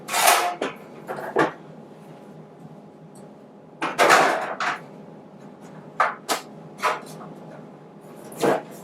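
Fuel canister being fitted into a CleanCook stove, a series of close metallic clunks, scrapes and knocks in irregular bursts separated by short quiet gaps.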